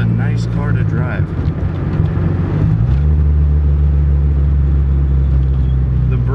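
A right-hand-drive Toyota AE86 Levin driving, with a steady low engine drone and road rumble that deepens and grows fuller partway through, while people talk over it.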